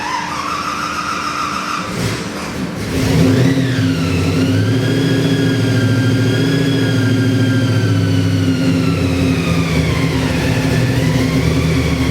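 Fuel-injected, 8-71 supercharged 460 big block Chevy engine running, with a rising rev early on, then a loud, steady rumbling idle with a whining blower tone, close and continuous.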